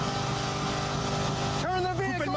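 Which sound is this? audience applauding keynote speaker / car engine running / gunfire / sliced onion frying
car engine running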